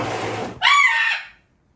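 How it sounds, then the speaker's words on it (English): A pet macaw gives a single short, harsh squawk lasting about half a second, sharp and fairly close, following a stretch of low rumbling background noise. "that random background noise you hear is Susie, one of my macaws"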